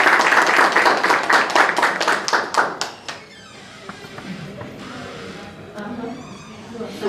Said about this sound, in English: Can we give our candidates a round of applause?